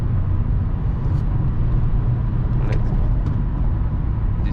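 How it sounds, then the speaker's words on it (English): BMW X5 E53 4.4i V8 with a remap to 309 hp, driven at speed on an Autobahn: a steady, loud, low engine and road rumble from inside the cabin, droning continuously with little change. "Oh, that sound guys, that V8 sound."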